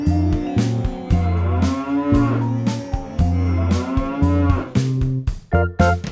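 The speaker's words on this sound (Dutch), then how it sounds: "Wat voor een geluid maakt een koe?" A cow moos repeatedly in long, loud, low calls, one after another with short gaps, close and clear.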